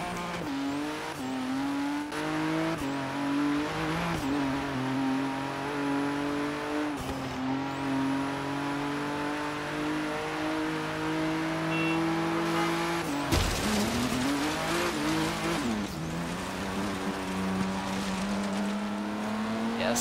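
Engine drone and revving from a car driven in Forza Horizon 3, with steady harmonic engine tones rising and falling through gear changes and a few sharp shifts, loud and continuous without talk.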